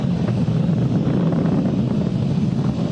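A SpaceX Falcon 9 rocket climbing supersonic, heard as a continuous low rumbling roar laced with wind buffeting on the microphone, loud and steady throughout with no voices.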